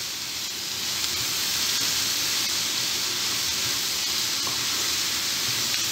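Rice with onions and vegetables sizzles in a frying pan as a steady, loud, close hiss that continues without a break.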